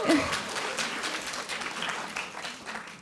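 Audience applause at a lesbian literature launch evening, a soft, fairly brief spatter of clapping from a modest crowd, steady and somewhat distant.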